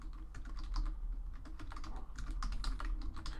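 Soft, quick keystrokes on a computer keyboard as a title is entered, an uneven patter of close taps with no voices.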